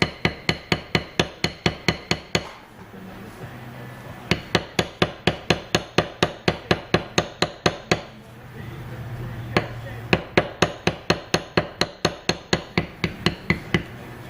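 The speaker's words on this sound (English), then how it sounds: "now I'm done beveling my stems" A mallet taps a beveler tool on leather in quick, even strikes, close and sharp, in three long runs separated by brief pauses, with faint scraping between.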